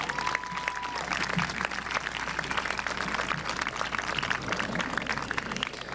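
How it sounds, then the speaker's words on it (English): Audience applause at the Winthrop High School commencement ceremony, a steady wash of many hands clapping that fills the hall at moderate level for several seconds, with a brief tone and faint murmurs underneath. "let's give Ms. Aronson a round of applause"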